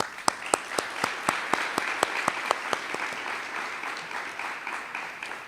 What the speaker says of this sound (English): I think we should all give the students a round of applause